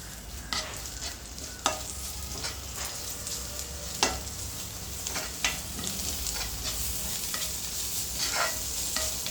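Mint leaves sauté in a few drops of oil for a vegetable biryani, with a constant soft sizzle and periodic scraping stirs of the spoon against the pan.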